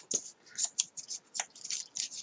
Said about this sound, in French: Vous voyez, ça fait du papier froissé, du papier mâché.